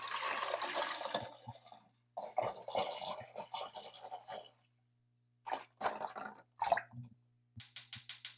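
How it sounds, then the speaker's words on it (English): Tap water runs into a cooking pot to cover eggs, coming in bursts of splashing pours separated by short pauses, close and fairly quiet. "we are going to cover the eggs all the way with water"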